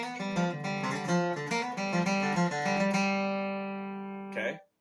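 Acoustic guitar plays the opening two phrases of a solo, a quick flatpicked bluegrass run of clear single notes and ringing strings, close and alone, ending on a held note.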